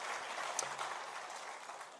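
A church congregation at a Sunday morning Korean worship service claps for one another, a soft, even wash of distant applause filling the room for a couple of seconds.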